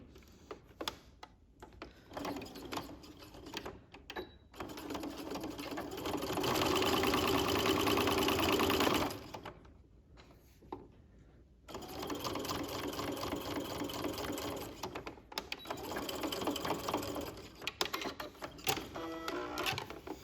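Sewing machine stitching the side seam of a garment, running in several bursts: short runs early, a loud sustained run in the middle, then a long steady stretch of rapid mechanical whirring near the microphone.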